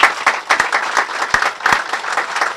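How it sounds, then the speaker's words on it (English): Gathered audience at a brewing sciences center event clapping in a round of applause, a smaller crowd with distinct individual hand claps standing out in an uneven, pulsing rhythm. "So if you all would please give Kathy a round of applause"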